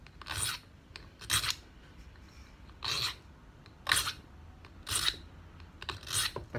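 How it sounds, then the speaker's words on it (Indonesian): A hand file smooths the sharp cut edge of stainless steel for a necklace, producing six brief, bright rasping strokes at a steady, unhurried pace, close up with quiet gaps between each pass. "So kita akan gosok kasih halus yang bekas potong itu, pasal dia tajam kalau tidak kasih halus guys."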